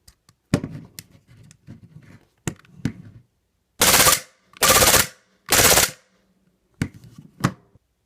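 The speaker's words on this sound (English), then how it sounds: "There are no BBs, so it's just dry firing." WE G18c gas blowback airsoft pistol dry firing with no BBs, on green gas in a room around 70 degrees: scattered single sharp cracks, then three loud full-auto bursts, then a couple more isolated shots, close up.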